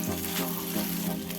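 Paneer pieces fry in a pan with a close, continuous sizzle and a few brief stirring scrapes, with no voices.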